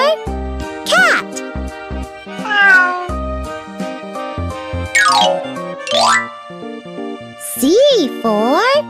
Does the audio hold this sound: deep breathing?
no